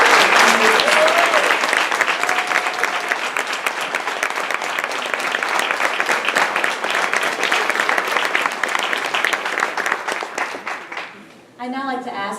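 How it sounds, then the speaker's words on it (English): Sustained audience applause at a women's honor program event, loud dense clapping that continues steadily and then tapers off before a voice starts speaking at the end. "have one final round of applause for all of our"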